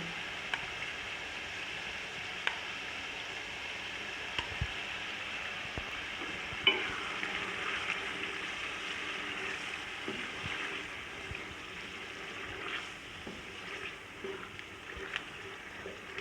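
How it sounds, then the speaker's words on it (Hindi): Chickpeas and potatoes roasting together in a pan for chana biryani, a soft, steady sizzle with occasional scrapes and clicks of stirring, fairly quiet and without speech. "तो चनों को भून लूँगी तकरीबन 5 मिनट में आलूओं के साथ।"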